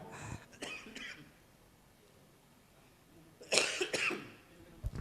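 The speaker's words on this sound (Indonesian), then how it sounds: "Jadi batuk saya" A lecturer coughs during a talk indoors, with a short cough near the start, another around one second, and a louder burst of harsh coughs and throat clearing later, set against a quiet room.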